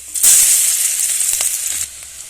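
Steady, crackling sizzle of chopped garlic and onion frying in hot oil in a kadai, close and fairly loud, with a few faint clinks partway through.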